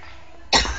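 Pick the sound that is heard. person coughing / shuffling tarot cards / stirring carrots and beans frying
person coughing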